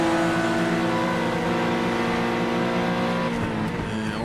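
A race car engine in the iRacing video game at Bathurst holds a loud, steady high drone before easing off as the driver lifts into a braking zone, with a slight tire squeal at the end.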